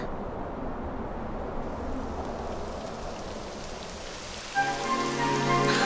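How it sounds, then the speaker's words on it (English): Steady rain patters densely on a surface in the video game Dragon Quest XI S, a constant wash of hiss, and a tonal hum joins in near the end. "It would have to go and start raining, wouldn't it?"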